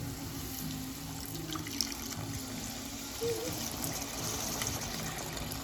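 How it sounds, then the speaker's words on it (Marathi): Water trickles and pours steadily into a cooking pan while making a ridge gourd dish, a soft continuous splashing with a faint background hum and no talking. "तर आपण आता पाणी टाकतो थोडंसं"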